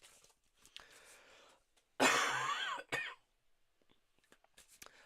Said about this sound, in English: I didn't want to cough down the mic, I'm sorry.